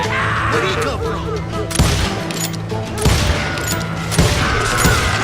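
Gunfire rings out in the Western video game Call of Juarez Gunslinger, a loud, dense run of shots and booming reports with echoing tails, with voices shouting beneath the fire.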